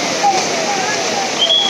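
Constant broadband rushing of water falling down from the hills, loud and steady, with faint whistling tones drifting over it.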